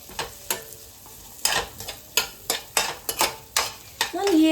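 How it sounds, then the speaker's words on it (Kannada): Onions frying in a pan for egg rice, a spatula scraping and stirring in quick repeated strokes over a soft, steady sizzle, close up with no talking. "ನೆಕ್ಸ್ಟು ಆನಿಯನ್ ಹಾಕಿ ಚೆನ್ನಾಗಿ ಮಿಕ್ಸ್ ಮಾಡ್ಕೊಳ್ಳಿ"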